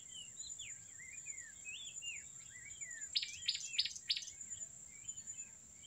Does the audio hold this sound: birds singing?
yes